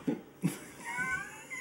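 A cat named Rémi gives a couple of short, low meows close by, followed by a faint higher drawn-out call, in a quiet indoor room.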